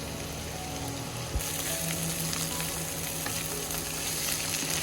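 Vegetable bhaji frying in a pan over a village cooking fire, a continuous close hiss and crackle of sizzling oil with faint stirring, no voices.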